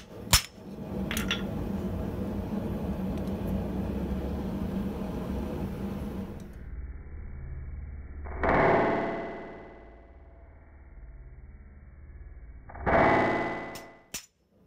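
An anvil-mounted rotary hot shear slicing through hot 8mm steel bar, giving two loud, separate scraping crunches a few seconds apart after a stretch of steady mechanical rumble, with no talk.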